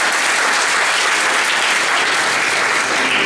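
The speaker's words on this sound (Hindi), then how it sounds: "एक बार जोरदार तालियां" Audience applause for a theatre play staged by a Bundelkhand drama arts centre in Jhansi, a dense, loud, sustained burst of clapping from a full crowd that continues evenly throughout.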